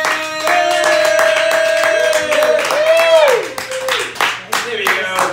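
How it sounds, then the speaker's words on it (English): An audience claps a quick, steady rhythm in honor of Elaine Wynn while a loud voice talks and calls out over the clapping. "Start clapping for Elaine Wynn!"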